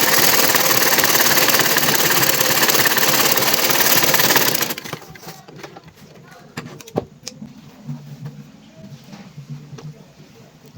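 A sewing machine stitches jacket fabric pieces together, running loud and steady for several seconds, then stopping, followed by scattered clicks and handling noises.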